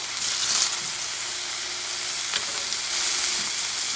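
An elk steak sears in a hot pan with a constant, close, bright sizzle and crackle that holds steady from start to finish.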